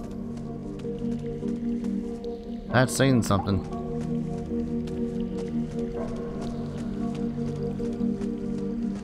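Wading through water in the Ghost Hunter video game: a brief cluster of wet sloshing splashes midway, over steady game ambience, with someone talking throughout.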